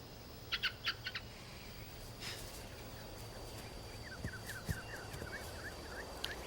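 A bird calls in a rapid string of short, bright chirps, with a few quieter isolated notes earlier, all heard faintly against a steady low background hum.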